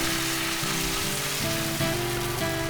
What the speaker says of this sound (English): Then in a hot pan add 1 teaspoon ghee. Then add the pancake batter and do exactly as it is done.